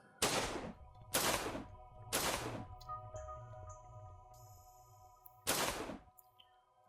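Rifle gunfire in the video game Skipchaser, four sharp, booming shots spaced about a second apart, with a pause before the last, over a quiet background of faint electronic game tones.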